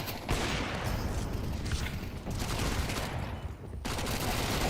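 Rapid automatic gunfire from a Counter-Strike 2 match at a StarLadder Budapest Major esports event, dense bursts of shots rattling loudly almost nonstop, with a short lull near the end before firing resumes.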